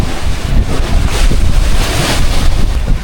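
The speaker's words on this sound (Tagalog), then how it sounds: "tingnan nyo naman yung alon" Ocean waves at Limasawa Island heard as a steady, loud roar of surf with heavy wind buffeting the microphone, continuous throughout with no voices.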